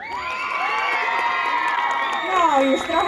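An outdoor crowd at the Jasień town days festival cheers and whoops for a teen beauty pageant placing. The cheering is loud and sustained, with high shouts and whistling voices that swell toward the end.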